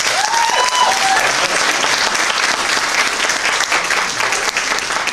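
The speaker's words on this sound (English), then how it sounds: "Everybody, another round of applause." At a comic-con cosplay competition, the audience gives another round of applause: a thick, continuous wash of many hands clapping, loud and even throughout, with faint voices underneath.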